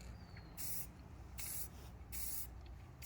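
Three short hissing bursts from a spray can, evenly spaced, each lasting about a third of a second against a quiet background.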